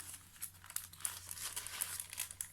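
Thin trellis paper sheets crinkle and rustle close up in quick, uneven handling sounds over a low steady hum.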